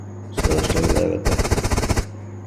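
Rapid automatic gunfire in the BGMI battle royale game, two loud sustained bursts of quick rattling shots separated by a brief pause, up close and with no talk over them.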